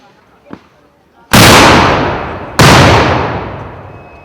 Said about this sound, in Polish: strzał alarmowy.